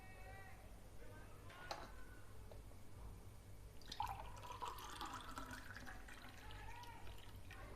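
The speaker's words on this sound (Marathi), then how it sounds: "आता आपण पाणी घेऊया याच्यामध्ये।" Cold water pours into a glass while making lemon juice, a faint trickle and splash that builds midway through, with no talk over it.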